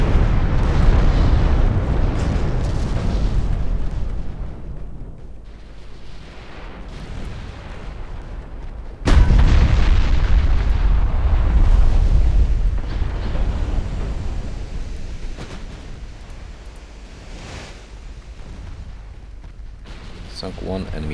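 Naval gunfire and shell explosions in Ultimate Admiral Dreadnoughts as a destroyer is sunk, heavy booms and rumbling blasts with a sharp loud burst partway through, while a voice talks over the battle.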